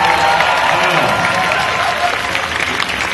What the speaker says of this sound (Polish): dla niej też ogromne brawo by było